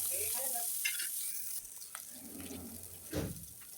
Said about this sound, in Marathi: उभा कट केलेला कांदा मी ह्याच्यामध्ये ॲड केलेला आहे कांदा पण चांगला परतवून घ्यायचा